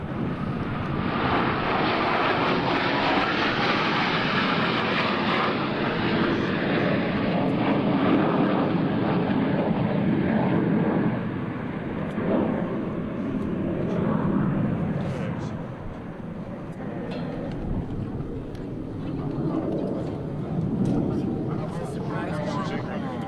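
US Navy Blue Angels jets fly a double varvel at an airshow in Dayton, producing a loud, sustained roar that fades slightly toward the end, with wind buffeting the microphone and a voice talking over it.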